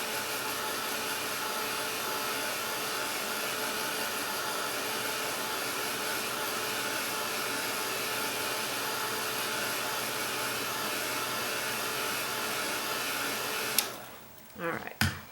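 A hair dryer blows steadily over wet metallic acrylic paint on a canvas of apples, a loud continuous whirring drone that holds evenly for about fourteen seconds before cutting off abruptly, followed by a few brief handling noises.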